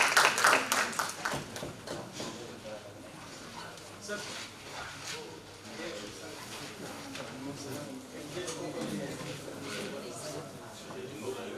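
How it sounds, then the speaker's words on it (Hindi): Audience clapping and cheering to welcome the chief guest, a state minister for social justice and empowerment, at a Khelo India workshop event; dense, steady applause filling the hall beneath ongoing talk, loudest at the start. "जोरदार तालियों से स्वागत कीजिए हमारे मुख्य अतिथि जी का"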